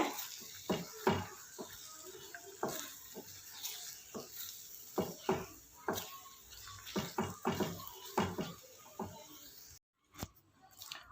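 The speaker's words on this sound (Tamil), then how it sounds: "கைவிடாமல் கிளறி விட்டுட்டே இருங்க." Jackfruit halwa thickened with cornflour is stirred in a pan, producing repeated close sticky scraping and squelching strokes in an irregular rhythm, with a brief pause near the end.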